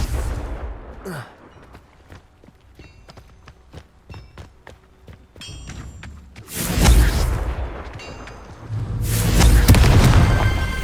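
Confringo fire spell in the video game Hogwarts Legacy bursts into two heavy, roaring explosions in the second half, loud and broad. Lighter footsteps and small clicks come before them.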